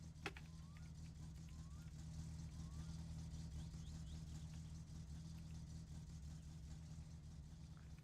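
A car engine idling in a video game, a low steady hum with faint ticking, heard quietly behind someone talking.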